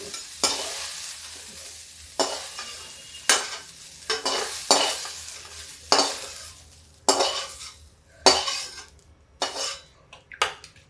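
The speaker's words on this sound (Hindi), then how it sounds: "गैस स्लो करके इस परवल को निकाल लेते हैं।" Fried parwal (pointed gourd) is lifted out of a pan on low heat, with repeated sharp metal spoon scrapes and clinks against the pan over a soft background sizzle, about a dozen strokes at an uneven pace.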